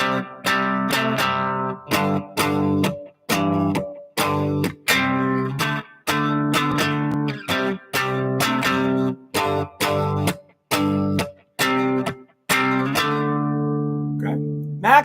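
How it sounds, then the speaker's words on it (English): Electric guitar playing a three-chord boogie rhythm, crisp strummed chords in a choppy repeating pattern with short gaps, loud and up close, no talking. "Okay, so kind of a 3-chord boogie."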